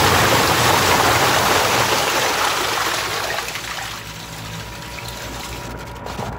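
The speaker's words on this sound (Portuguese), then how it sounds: "Vou sair porque vai jorrar muita água." Water gushes loudly out of a pipe once its end cap is unscrewed. A strong, rushing torrent fills the first few seconds, then eases into a lighter, steadier flow.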